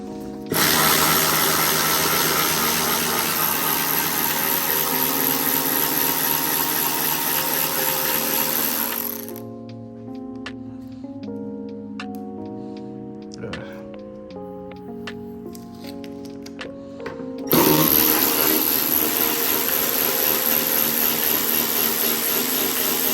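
Power tool driving long screws into a 2021 Harley Davidson Low Rider S dash: loud, steady whirring runs for about nine seconds, a quieter pause with clicks and handling, then the tool roars again near the end.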